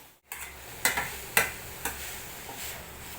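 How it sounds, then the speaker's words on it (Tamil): Carrots sauté in ghee in a pan for carrot halwa with a steady sizzle. Several sharp scraping stir strokes sound up close at irregular intervals. "ஒரு 2 நிமிஷம் இந்த நெய்யிலே கேரட்டை நல்லா வதக்கிக்கிடலாம்."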